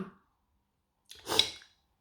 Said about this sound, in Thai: จาม